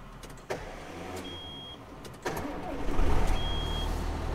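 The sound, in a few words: John Deere tractor engine restarting, tired starter motor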